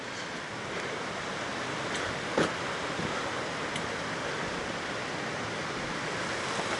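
Water in South Texas Creek on a Colorado mountain trail rushes and hisses in a constant broadband wash, steady and close, with one brief knock and no voices.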